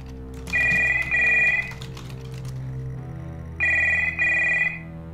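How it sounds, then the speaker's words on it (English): A telephone rings in the horror game Stories Untold, two loud bursts of bright electronic trilling, a pause with a low hum, then two more bursts, with no talk over it. "Behind the door, phone starts to ring, you don't understand."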